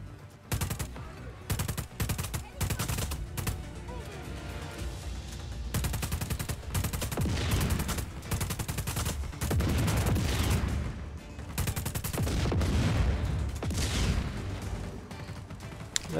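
Rapid automatic smart-rifle fire in the Just Cause 4 video game, dense bursts and sustained volleys with booming low-end impacts, loud and continuous throughout with short gaps between strings of shots.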